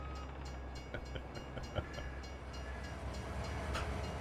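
In Farming Simulator 22, a game train runs past, its rolling rail rumble broken by irregular clanks and knocks and one sharper impact. The train sits at mid distance, and no one speaks.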